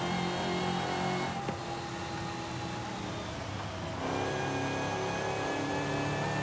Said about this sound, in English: let's go into the front so we can hear that supercharger